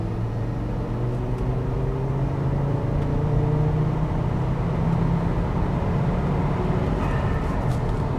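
A manual Volvo V70 T5 with a stock-intercooled turbocharged five-cylinder engine pulls hard in third gear on a hot day, a loud, continuous engine drone and road rumble rising steadily from inside the car.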